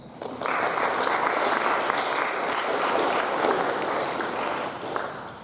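A school audience at a middle school moving-up ceremony breaks into applause after a short pause, then keeps up a broad, sustained wash of clapping that fades slightly near the end.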